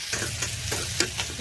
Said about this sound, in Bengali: লাউর খোসাগুলো দিয়ে দিলাম, এগুলো একটু তেলে ভেজে নিব।